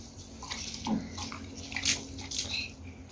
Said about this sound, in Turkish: Bak suyu açtı. Tıpayı açıyor bu.